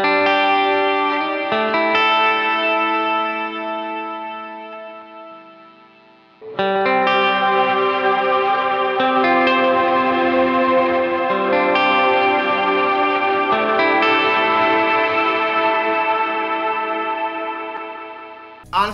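An electric guitar plays through a Strymon Big Sky reverb pedal on a fully wet cloud setting, with long, lush swelling chords that wash together into a dense ambient haze, fading and re-blooming over sustained tones.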